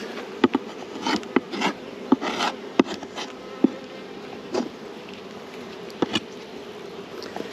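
Honey bees buzz steadily around an open beehive during an outdoor inspection, a continuous close hum with brief louder passes of individual bees and occasional soft knocks of hive equipment.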